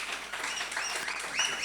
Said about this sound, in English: Round of applause from the audience, please